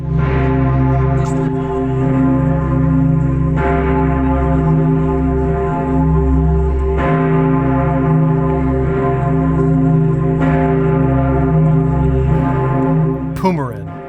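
The great bourdon bell of St. Stephen's Cathedral in Vienna, cast in 1951 with a pitch of C and a mass of over 20 tonnes, tolls slowly and loudly, each deep humming strike blooming every few seconds over a sustained resonance.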